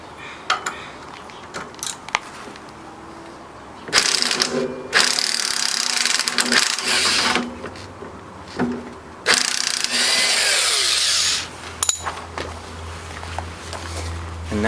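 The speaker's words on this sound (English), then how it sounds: "Remove this bolt and nut that's holding the suspension fork" A ratchet wrench works a bolt and nut loose from a suspension fork at the lower control arm during a CV drive axle change, with bursts of rapid clicking between quieter pauses and small metallic knocks.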